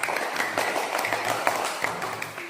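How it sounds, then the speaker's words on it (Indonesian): Children in a classroom clap together for a classmate who answered a question, a short burst of scattered hand claps of moderate loudness, close by, with no talk over it. "Kita tepuk tangan untuk Eja."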